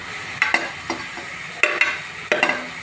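A spoon scrapes and stirs spices into tomato masala frying on high heat, giving sharp clinks in irregular pairs over a constant close sizzle.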